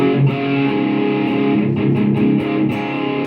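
A heavily distorted electric guitar plays with a bright, biting treble edge, sustained and loud throughout with no pauses.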